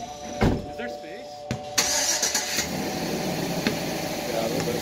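A car engine cranks and catches partway through, then settles into a steady nearby idle as the car gets ready to back up, with people talking around it.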